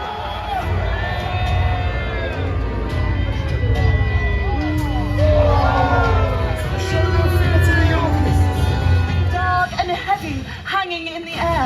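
A crowd at a Warwick Castle jousting show cheers for its champion: dense, loud shouting and whooping from many voices that carries on throughout and eases slightly just before the end.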